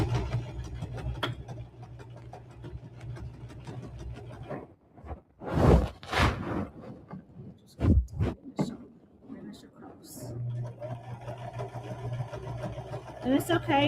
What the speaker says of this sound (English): I'm going to slowly back stitch at my seam.